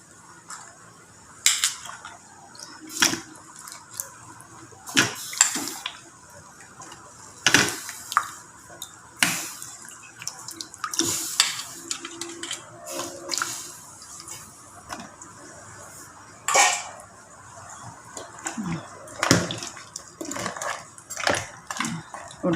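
Vegetables tipped into a pot of cooked dal for mutton dalcha: scattered clattering and knocking of pot and utensils in irregular bursts, with quiet pauses between them and a faint background murmur.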